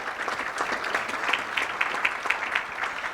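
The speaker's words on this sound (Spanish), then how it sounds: "un aplauso para él" Applause for Pancho Córdoba at a #ConstruyendoMéxico tour event in Cancún: steady, dense crowd clapping with a few sharper accents, sustained throughout at moderate level.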